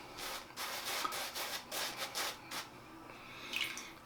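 An Edwin Jagger 3one6 safety razor scrapes across a lathered scalp during a head shave, a series of quiet, close rasping strokes in uneven rhythm with short pauses between passes.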